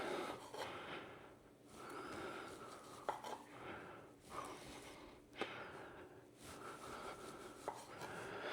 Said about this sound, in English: Next we're going to cut up some of this beautiful Polish sausage that I picked up from the deli